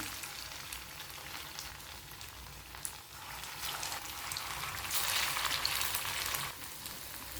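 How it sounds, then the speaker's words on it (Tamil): Vadas fry in hot oil with a steady, dense crackling sizzle that swells louder midway and holds, close and unbroken, with no talking. "இப்போ எண்ணெய் நல்லா காஞ்சிருச்சு. நம்ம ரெடி பண்ணி வச்சுருந்த வடை ஒன்றொன்றையும் போட்டு ஃப்ரை பண்ணிக்கலாம்."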